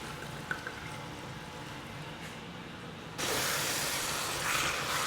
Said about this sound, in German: jetzt das Ganze mit einem guten Schuss Wein ablöschen